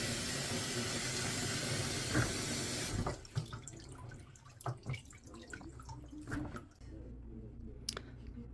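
Tap water running into a sink for soaking sweet potato stems, a steady rush that cuts off after a few seconds, followed by quieter drips, clinks and handling noises.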